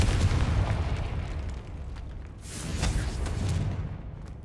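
A Confringo spell blast goes off in Hogwarts Legacy, a loud rumbling explosion at the start that dips, then swells into a second booming burst with a crackling tail.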